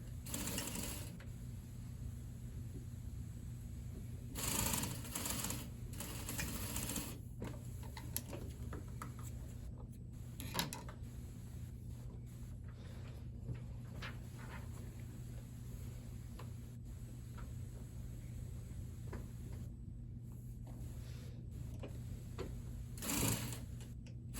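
An overlocker or sewing machine sews half-inch seams on a shawl-collar garment, giving a continuous low mechanical hum with faint ticking and periodic louder bursts across a long stretch, and no talk.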